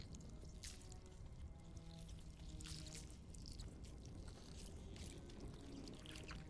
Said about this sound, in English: That sounds like slime, doesn't it?